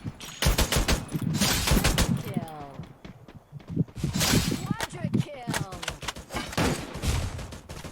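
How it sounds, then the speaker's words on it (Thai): Rapid gunfire bursts from the Free Fire mobile battle game, loud and repeated in volleys over several seconds, with a player talking excitedly over the shots. "โดนยิงเรื่อยๆเลย"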